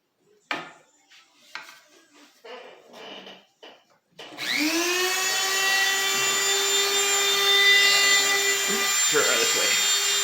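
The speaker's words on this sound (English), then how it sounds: "I already got the one barrel sander on my Dremel tool. I got it on my flex shaft" A Dremel rotary tool on a flex shaft spins up after a few knocks and handling sounds, then whines steadily with a barrel sander shaping a carved wooden walking stick, loud and close throughout.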